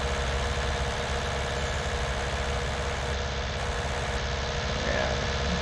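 A tractor engine in Farming Simulator 19 idles and chugs in a steady low rumble with a constant vibrating drone, close and unbroken for the whole stretch.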